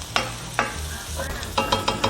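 Flour is stirred into a hot pan to make a roux, with a spoon scraping and knocking in irregular strokes over a low sizzle.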